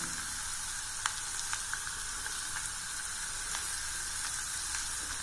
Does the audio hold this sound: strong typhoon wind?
no